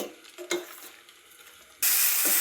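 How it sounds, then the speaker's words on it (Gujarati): Carrot halwa with cream and milk is stirred on a low flame, with a few soft scraping stirs followed by a sudden, loud, steady sizzling hiss that continues to the end. "આવી રીતે જ આપણે ધીમા ગેસે હલાવતા રહેવું જ્યાં સુધી મલાઈ ને દૂધ બધું બળી ન જાય ત્યાં સુધી"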